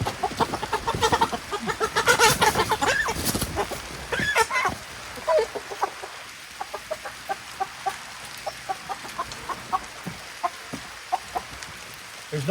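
Chickens and roosters cluck on a homestead, a dense burst of loud calls at first, then scattered clucks popping up at intervals over a quieter yard background.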